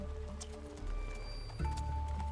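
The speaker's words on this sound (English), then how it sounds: "even things as simple as getting this horse to walk is so much more difficult because it's a different animal" A horse walks with soft, rhythmic clip-clopping hooves close by, heard under a steady background of hum and tonal noise, with little or no talk.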